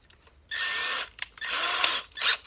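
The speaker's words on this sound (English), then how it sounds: "I'm just going to drill a hole through here." Power drill boring a hole in a skull burr holder workpiece, two sustained whining bursts separated by a brief pause, then a shorter third burst, close and loud with no talk.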